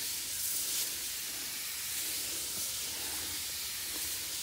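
A pesticide sprayer gives a steady, even hiss while spraying beans in a garden, moderately loud and unbroken throughout with no voices.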